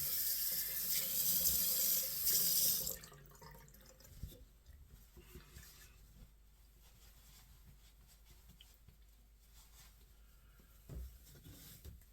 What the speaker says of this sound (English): I'm going to rinse off the alum.